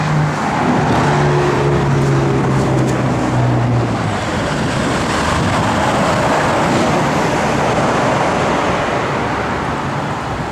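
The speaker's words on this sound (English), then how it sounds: "you fire this thing up, I mean, it has got a good sounding" A 1970 Chevrolet Nova SS with its 396 engine runs in a steady, loud broad roar, with low droning tones showing through during the first few seconds.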